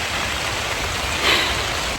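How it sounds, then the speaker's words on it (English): Rain falls on a summer vegetable garden with tomatoes and cucumbers, a steady dense hiss of drops that swells briefly midway, close and even, with no voices. "it's raining"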